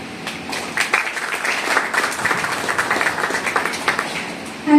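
A youth congregation at a Sunday church service claps with raised hands in thanks, uneven clapping that swells and dips in loose bursts, fairly close, with a brief louder spike at the end.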